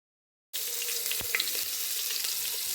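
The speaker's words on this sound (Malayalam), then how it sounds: "ഒരു കുക്കർ അടുപ്പത്ത് വെച്ച് ചൂടാകുമ്പോൾ അതിലേക്ക് നെയ്യ് ഒഴിച്ച് സ്പൈസസ് എല്ലാം ഇട്ട് കൊടുക്കാം" Whole spices, ginger and garlic hit hot ghee with a splash of coconut oil in a pressure cooker, and after a brief silence a loud, steady sizzle starts, with a few sharp clunks of utensil against metal.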